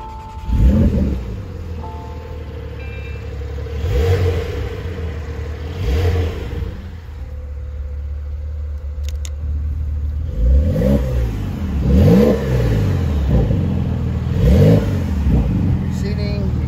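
A 2020 Porsche 911 Carrera 4S convertible starts up and its engine is revved repeatedly, loud rising-and-falling surges over a steady idle.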